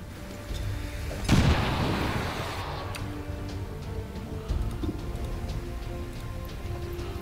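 A grenade blast in the video game XCOM 2 Long War: a sudden loud boom that settles into a long, hissing rumble of debris, with faint ambient game sounds continuing afterward and no speech.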